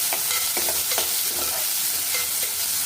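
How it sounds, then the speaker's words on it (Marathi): Onions sauté in a pan, with a continuous close sizzle broken by a few quick stirring scrapes over a few seconds, without talk. "कांदा छान तांबूस होईपर्यंत परतून घ्यायचा आहे"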